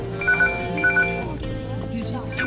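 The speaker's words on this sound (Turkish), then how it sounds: "Yıldız Hanım telefonunu kaybetmiş de onun için çaldırıyorum" A misplaced phone's electronic ringtone chirps in a few short bursts at a party in a Turkish film, then fades as talk and room noise carry on.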